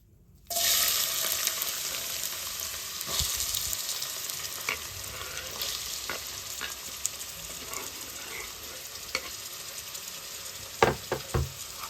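Sliced onions and slit green chillies hitting hot oil, a sudden loud sizzle that settles into a steady close hiss, broken by sharp clicks and scrapes of stirring near the end, with no voices.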